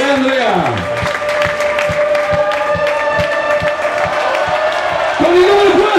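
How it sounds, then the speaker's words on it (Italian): A crowd at a basketball Supercup celebration in Cantù claps in steady rhythmic unison with some cheering, while an announcer calls out over a PA system. "L'applauso va al numero 13, Andrea!"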